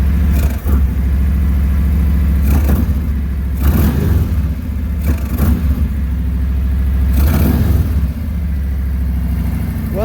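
Harley-Davidson FLHTK motorcycle with a Stage 1 tune, idling with a deep rumble and blipped several times in short throttle revs up close.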